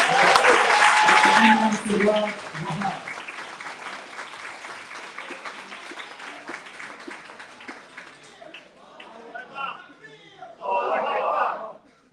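A mosque congregation gives a brief burst of applause at the start, loud and close, before it fades into a murmur of voices and scattered sounds, with another short swell near the end.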